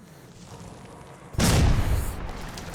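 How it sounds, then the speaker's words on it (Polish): In Metro Last Light, a sudden loud explosion bursts in partway through, following a steady low rumble, then lingers as a roaring blast that slowly fades. "O, cholera, to wybuchnie!"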